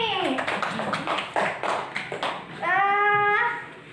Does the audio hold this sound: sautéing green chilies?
no